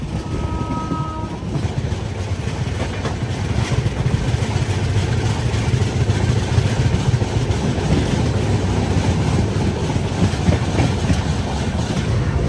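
The Navajeevan Express, running from Chennai Central toward Ahmedabad, rumbles along in a loud, continuous roar of rolling wheels and carriage noise heard from inside, with a brief horn-like tone near the start.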